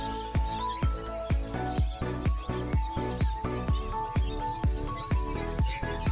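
Many birds chirp at a tourist spot, a dense, close chorus of rapid repeated tweets and calls in a steady rhythm, with no talking.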